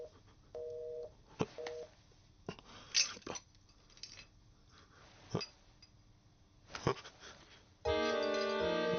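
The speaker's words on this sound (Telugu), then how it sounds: "ఫోన్." A telephone in a restaurant kitchen scene gives two short electronic beeps near the start, then a loud, steady ringing tone at the end, with light clinks of dishes in between.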